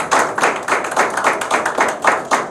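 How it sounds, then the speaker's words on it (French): Audience at a Gabon d'Abord platform press event applauding a founding member, a steady round of hand claps with a pulsing rhythm, fairly close and loud, no voices over it. "Je voulais qu'on applaudisse aussi pour lui."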